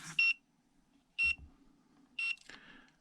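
A budget RC-car radio transmitter sounds its low receiver-voltage warning: three short, sharp electronic beeps about a second apart, close and clear, with faint handling noise between.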